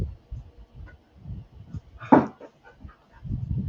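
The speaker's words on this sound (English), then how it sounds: "This is the dog I'm talking about right there." A pet dog eager to play makes a short whimper and yip in a quiet room, one brief burst standing out over soft background noise.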